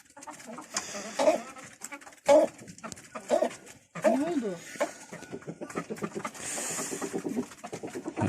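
Hens clucking and murmuring close by in a coop at a barn on a snowy morning, with scattered bird calls and someone talking intermittently over them.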